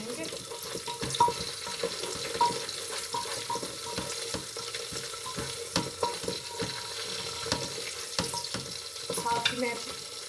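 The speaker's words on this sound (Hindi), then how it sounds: "थोड़ी देर इनको भूनेंगे।" Onions and chillies fry in a pan with a soft, continuous close sizzle and crackle, punctuated by small pops and stirring scrapes, quiet and steady throughout.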